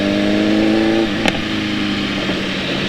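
A BMW S1000RR sport motorcycle being ridden, its engine droning steadily and loudly up close, with a brief sharp knock partway through before the engine note carries on.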